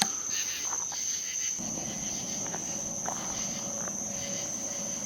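At night near Crybaby Bridge, a dense, steady chorus of crickets and other insects rings continuously, with frogs calling underneath. Faint footsteps and rustling sit beneath the constant shrill drone.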